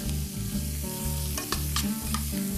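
Braised short ribs with flour sizzle loudly in a pan, covered by a steady close frying hiss with rhythmic scraping strokes as they are stirred, and no voices.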